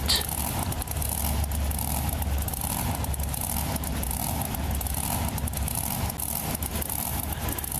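Ford Bigfoot monster truck in the BeamNG Drive game, its big-horsepower engine giving a steady, low rumbling drone at moderate level throughout, with no clear revving peaks.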